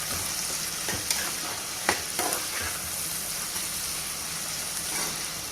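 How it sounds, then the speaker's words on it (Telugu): Curry with turmeric stirred in a pan over high heat, a steady close sizzle of frying with scraping spoon strokes and a few sharper clicks, no talking. "కాస్త పసుపు, హైలో పెట్టి బాగా కలుపుకున్నామండి."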